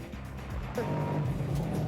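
A stock Shelby Super Snake roars as it accelerates hard through the gears in the desert at around 100 mph, a steady, loud engine drone with a rising whine.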